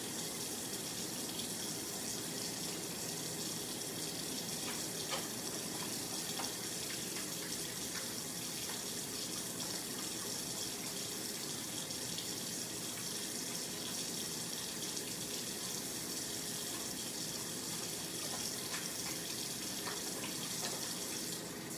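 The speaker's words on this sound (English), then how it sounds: "I'm going to make sure I'm rinsing downwards." Tap water runs steadily into a sink while hands are rinsed, a constant close hiss and splash with no pauses and no talk.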